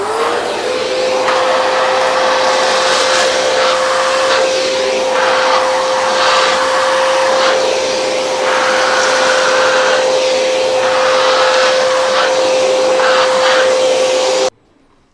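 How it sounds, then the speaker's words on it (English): Agaro Ace 1600-watt wet and dry vacuum cleaner running with its floor brush, a loud steady whine with a constant tone that holds for about fourteen seconds before cutting off abruptly. "we'll again do a dry run with the floor brush"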